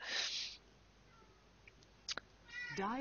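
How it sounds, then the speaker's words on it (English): A cat meows faintly in the background, with a short call at the start and a rising, wavering meow at the end, separated by near silence and a couple of small clicks. "And sorry for the cat sounds in the background."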